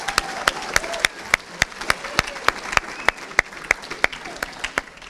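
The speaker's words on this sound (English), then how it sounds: "One more round of applause for all the award winners" An audience at a high school sports banquet applauds the award winners, a steady round of clapping, with some hand claps close and sharp, running through the whole moment with no speech.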